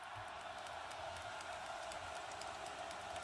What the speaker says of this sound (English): Crowd loud, influential.